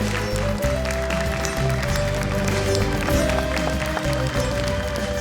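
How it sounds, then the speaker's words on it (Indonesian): An audience applauds for Akila on the Indonesian TV show Hafiz Indonesia 2021, steady clapping running alongside loud music for several seconds. "Boleh tepuk tangan untuk Akila."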